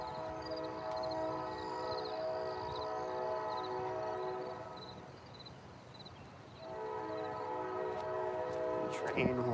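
A train horn sounds in long, steady sustained blasts with a stack of harmonics, fading briefly in the middle before returning strongly, with a faint voice underneath near the end.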